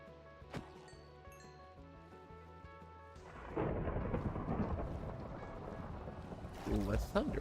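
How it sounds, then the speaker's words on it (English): Thunderstorm in a video game: a quiet stretch with music gives way around the midpoint to a loud, broad rumbling wash of rain and thunder that holds steady to the end, with a brighter swell near the close. "Ooh, a thunderstorm."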